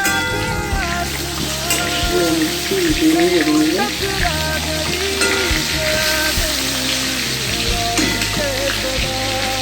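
Eggplant slices sizzle steadily in a hot pan of oil in a home kitchen, a loud continuous crackle and hiss with occasional stirring and spatter, no voices.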